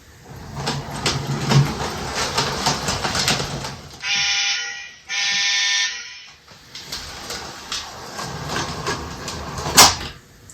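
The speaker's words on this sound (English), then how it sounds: "Alright, let's bring the train in." A Lionel O-scale model train rattles and whirs along its track, broken midway by two sustained, loud electronic horn blasts before the rolling clatter resumes.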